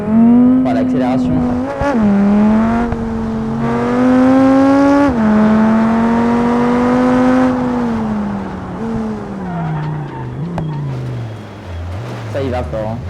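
Audi RS3 in BeamNG.drive accelerating hard, a loud, close engine note climbing through gears with pitch rises and drops at each shift, then winding down toward the end.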